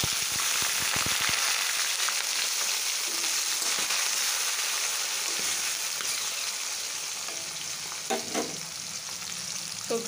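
Potatoes and vegetables frying with mustard seeds in a pan produce a loud, steady sizzle, with a few sharp pops at the start and some clattering near the end.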